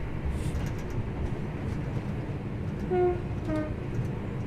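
A Class 323 electric train running on the Glossop Line near Gorton in Train Sim World 6, giving a steady low rumble of wheels and motors throughout, with a few faint tonal chimes or whines partway through and no talk.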